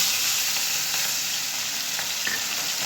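Shrimp fry in hot mustard oil seasoned with cumin and bay leaves, a dense, even sizzle throughout with a few faint stirring touches.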